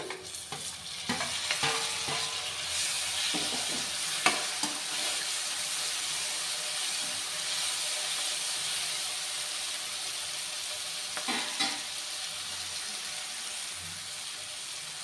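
Cluster beans and tomato with chilli powder fry in a pan, giving a steady hiss and sizzle with occasional spoon-scrape stirring clicks, moderately loud and close with no talking.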